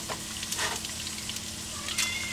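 Ground beef crackles and bubbles in a hot frying pan, still watery rather than browning, a close, steady sizzle with a few sharper pops.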